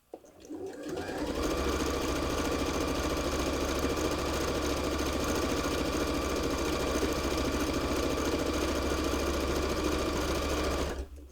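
A sewing machine stitching fabric runs up quickly and holds a loud, steady mechanical whir with a fast regular needle rhythm for about ten seconds, then stops abruptly.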